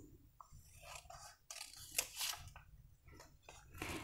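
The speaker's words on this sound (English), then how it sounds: "you can go a step further and cut the small cards in the middle, separating the text from the drawing" Scissors snip through small paper vocabulary cards, cutting them in half, with a series of crisp close slicing strokes and rustles of paper in a quiet room.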